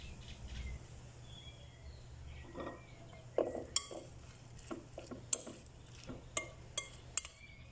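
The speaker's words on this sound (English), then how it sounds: "Mix it all together, let those flavors come together" A green mango salad with cilantro is tossed in a bowl, with soft wet shuffling and a series of distinct utensil clinks against the bowl in the second half, fairly quiet and without speech.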